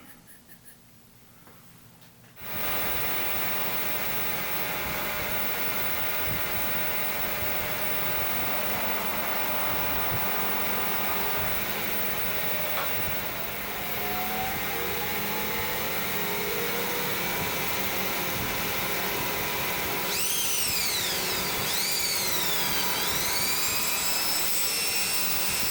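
A power buffer polishes fine scratches out of car paint, a steady loud whirring drone that starts suddenly after a quiet moment and runs continuously, with rising and falling tonal sweeps late in the run.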